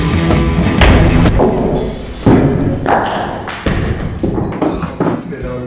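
Sharp sword blows strike a frozen melon, giving repeated heavy thuds and cracks at close range, with people talking and calling out between strikes.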